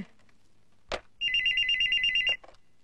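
A telephone bell rings in one loud, steady burst of rapid trilling lasting about a second, with brief clatters just before and after.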